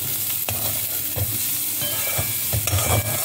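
Bitter gourd sautéing in a pan for a South Indian meal, with a steady close sizzle and intermittent stirring scrapes and taps of a spatula, continuous and fairly loud, without speech.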